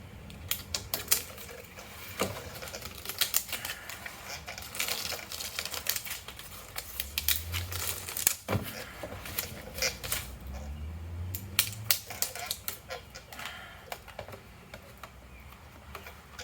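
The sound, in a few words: peeling backing paper off foam sealing tape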